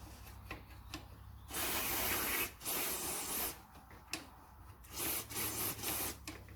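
Universal oil sprayed from an aerosol can onto the ball joint of a KYMCO MXU550i ATV, heard as several close hissing bursts of varying length, the longest about a second, alone with no talk.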